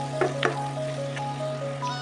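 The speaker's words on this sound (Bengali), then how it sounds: "পেঁয়াজটা একটু ভেজে নেব।" Chopped medium onions fry in a pan with an even sizzle, broken by a few brief stirring scrapes, heard close over a steady low hum.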